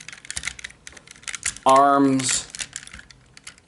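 Plastic parts of a Transformers: Robots in Disguise (2001) Optimus Prime toy clicking and rattling as they are folded, a run of small close clicks interrupted by a short spoken phrase.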